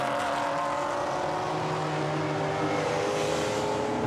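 GT4 race cars, a Lotus leading a Maserati, roar past at Misano circuit, a loud sustained engine drone with shifting pitch as the cars accelerate, continuous for a few seconds without commentary.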